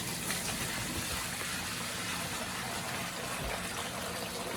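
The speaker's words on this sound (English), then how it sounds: "So pour the fresh water in." Fresh water poured into a tub holding a juvenile axolotl, a steady broadband gushing and splashing that runs evenly through the whole stretch, close and fairly loud, with no talking.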